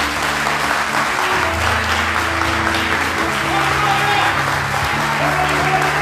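A church congregation claps during a live service. The applause is loud and sustained for several seconds, with a dense, even wash of clapping and a low hum of crowd and room noise beneath it.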